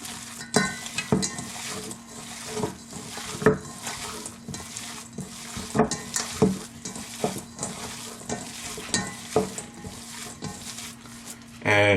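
A spoon stirs a raw burger mixture in a bowl with repeated scraping and soft clacking strokes at an uneven rhythm, close and fairly loud, with no talking.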